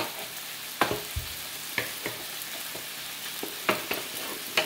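Pancit canton noodles cook in a hot pan with a steady sizzle, punctuated by several sharp spatula scrapes and taps at irregular intervals.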